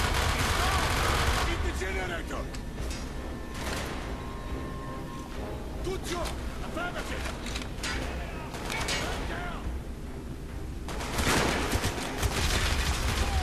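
Gunfire in the Call of Duty: Black Ops campaign, dense rattling bursts and scattered shots over continuous battle rumble, with a louder volley near the end; a voice is partly mixed in.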